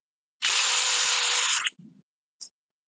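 A DeWalt drill whirs loudly and steadily for about a second, then winds down, followed by a short low thud and a brief high click.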